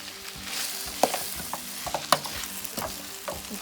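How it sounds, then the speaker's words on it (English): Spring onion and other ingredients being stirred in a hot frying pan, a constant sizzle under repeated close scrapes and taps of the spatula. "So now we're going to mix in everything"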